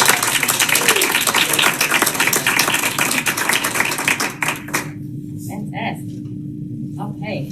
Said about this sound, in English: Can we give a big round of applause for all of our community?